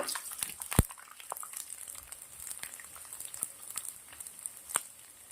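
Dried garlic cloves and red chilies crackle as they fry in hot oil for a kadai pulao, a steady faint sizzle broken by a few sharp pops and spits, with no voices.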